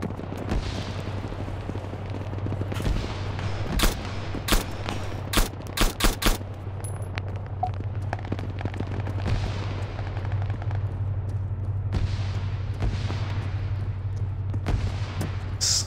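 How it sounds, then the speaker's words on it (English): Gunfire in the video game Arma 3, with scattered sharp shots and a few tight bursts cracking loud over a steady low battlefield rumble, then the firing thins out into sparser distant pops. "Shots are getting through."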